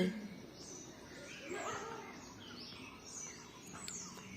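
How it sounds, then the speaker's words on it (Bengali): Many birds call and chirp at dawn after the pre-dawn meal, a faint layered chorus of overlapping tweets and whistles at a distance with soft ambient hiss and no clear voices. "অনেক পাখি ডাকছে"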